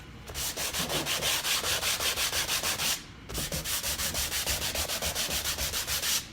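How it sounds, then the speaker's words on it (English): Sandpaper is rubbed briskly back and forth over a painted surface to distress it, giving rhythmic rasping strokes in two close-up runs split by a short pause. "I can just take some sandpaper and distress it a little bit"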